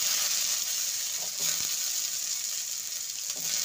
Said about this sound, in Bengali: এবার সবজিগুলোকে ভেজে নেব। প্রথমে দিয়ে দেবো টুকরো করে